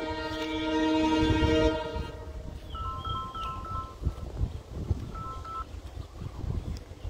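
A train passes through Jagati railway station in Bangladesh, sounding a loud sustained horn, then rumbling along the tracks with short beeping tones over the rolling clatter, near and without talk.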